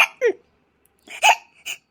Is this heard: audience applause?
no